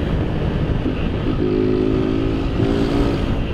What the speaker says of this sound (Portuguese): Vamos ver quantos que essa motinha corre.